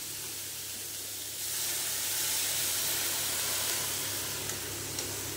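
Milk hits a hot pan of cabbage with a burst of steady sizzling and hissing steam that swells after the first second and holds, loud and close, with no talking.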